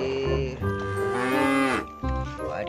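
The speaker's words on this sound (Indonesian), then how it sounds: "ada si sapi perah. Wow, sapinya besar sekali" A large dairy cow gives a loud, drawn-out moo close by, rising and then breaking off before a shorter second call.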